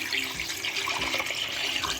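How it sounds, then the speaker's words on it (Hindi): Water pours steadily into a cooking pot over meat to make yakhni stock for pulao, a continuous close rushing splash with no talk. "और पानी इतना डालूंगी कि जो ये गोश्त है ना ये नज़र ना आए"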